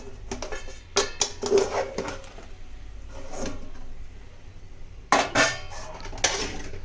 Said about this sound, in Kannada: ಮತ್ತೆ ಇದನ್ನ ಮುಚ್ಚಳನ ತೆಗಿಬೇಕು.